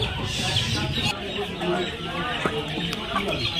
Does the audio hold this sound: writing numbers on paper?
no